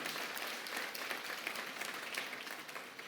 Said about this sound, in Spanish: Y va a dar un aplauso, déselo con ganas a Dios